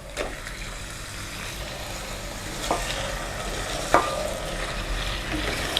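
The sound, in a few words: mutton frying with onions in a pan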